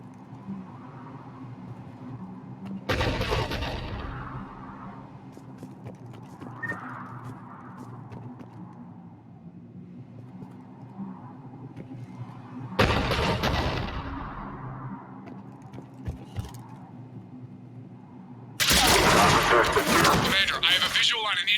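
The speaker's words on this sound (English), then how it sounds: "The cannon fire is clearing the way." Heavy cannon fire in the sci-fi shooter Mass Effect 3, three loud broadband booming bursts spaced several seconds apart over a constant low game hum, with a voice talking in between.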